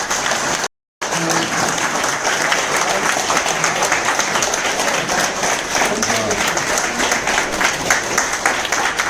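A standing audience at a product-benefits gathering in a hotel hall in Maninagar gives leaders a burst of applause, loud dense clapping that runs on steadily for several seconds, with a few voices mixed in.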